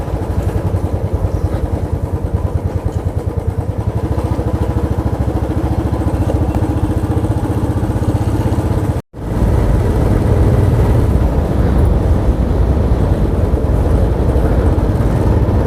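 A motorcycle carrying a luggage bag on a long road trip from Kolkata toward Siliguri, with a steady close engine drone and wind rumble throughout, briefly interrupted by a short dropout midway.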